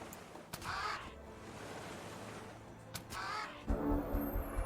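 Crow units in the strategy game Age of Wonders 3 give two harsh caws a few seconds apart, set against low battle ambience and a rumbling thud near the end.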